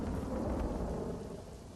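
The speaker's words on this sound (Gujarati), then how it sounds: "થોડી જ વારની અંદર અહીં આપ જોઈ શકો છો જે ધોધમાર વરસાદ વરસી રહ્યો છે" A heavy downpour pounds the Iskcon crossroads in Ahmedabad. It makes a dense, loud, continuous roar of rain with a deep rumbling undertone, heard alone without voices.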